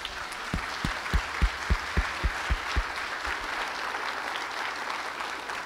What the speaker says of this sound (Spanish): a quien pido un voto de aplausos